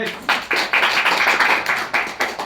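A small classroom group claps hands during a microteaching session, a few close, uneven bursts of clapping with short pauses between them.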